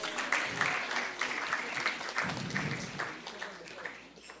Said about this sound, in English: So let's give a big round of applause for our dear pujaris who have dressed our deities very beautifully.